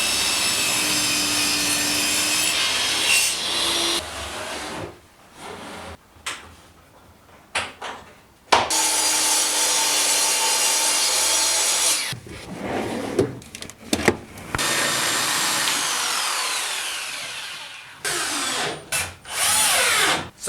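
Power-tool cutting of wood paneling comes in loud bursts, broken by quiet pauses and clunks of handling and setting pieces down, with a final short run of cutting near the end.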